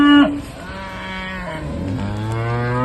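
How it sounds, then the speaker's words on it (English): Cattle, heifers and cows moo as they walk in on an Irish family dairy farm, several long, loud, overlapping lowing calls close by in open air. "Cows walking in."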